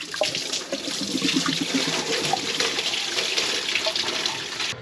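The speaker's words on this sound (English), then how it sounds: "now I'm gonna yank that hose off" Coolant gushing and splashing out after a radiator hose is pulled off a Jeep Rubicon, a steady close stream of pouring liquid throughout, with no talking.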